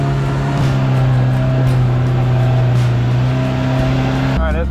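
A Polaris RZR Pro R off-road vehicle accelerates on a trail at Turkey Bay, Kentucky, its engine holding a loud steady drone close by before dropping off near the end, with a voice speaking briefly.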